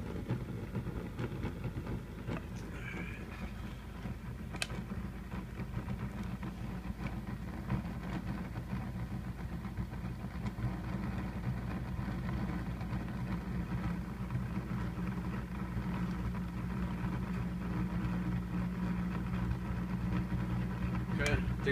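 A Bedini motor running at 18 volts with worn bearings speeds up, a steady broadband whir with a low hum holding close and even throughout.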